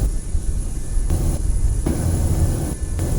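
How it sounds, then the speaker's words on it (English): A steady airliner engine roar during a takeoff roll down the runway in Microsoft Flight Simulator 2020, loud and continuous with a low rumbling drone and no talk. "we're halfway down the runway now at this point"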